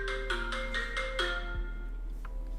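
Phone alarm ringtone going off during a live trading stream, a clear bright repeating electronic tone pattern of about five pulses, fairly near and steady, fading near the end.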